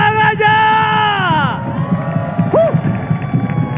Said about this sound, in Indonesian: So, Velodrome mana tepuk tangannya?